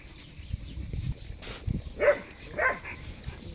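A happy dog gives a couple of short, mid-loud barks or yelps against quiet room background, spaced about half a second apart.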